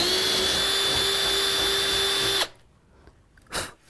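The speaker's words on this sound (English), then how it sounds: "we've got a drill here, and we're going to put a hole in the board" A loud, steady power drill whirs continuously for a couple of seconds boring a starter hole in a board for a jigsaw blade, then cuts off abruptly, followed by a brief clatter.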